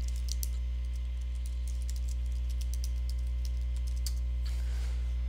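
Computer keyboard typing in quick bursts of close clicky keystrokes over a steady electrical hum, with a brief pause then a few more keys, no talking.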